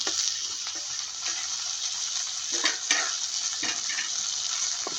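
Chopped tomatoes and peas fry in a pan for a vegetable sandwich filling, giving a steady close sizzle with occasional stirring scrapes and clicks, no voices.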